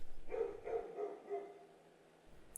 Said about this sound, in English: The dogs from the neighborhood are barking again.